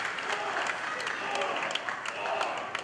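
Wrestling crowd at an All Pro Wrestling match cheering and clapping, a dense roar of applause with sharp individual claps, while a commentator talks over the noise throughout.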